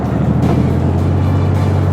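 A tank's engine, heard while riding on top of the moving tank at a Wargaming.net anniversary party, gives a loud, close, continuous low rumble with an even throbbing drone throughout.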